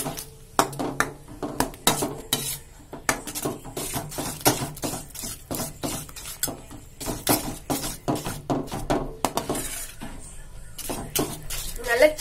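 A spoon stirring cheesy white sauce macaroni in a pan gives repeated light scraping clinks and knocks against the metal, steady and close, with no talking.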